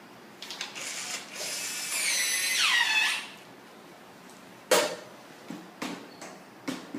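A surgical drill spins its Jacob's chuck to tighten it during setup for TPLO surgery. A whirring whine lasts about two seconds and winds down in pitch, followed by several sharp isolated clicks and taps.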